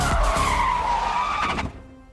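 Car drifting through a turn in a film chase scene, tires skidding with a loud sustained screech over engine rumble, fading out sharply at the end.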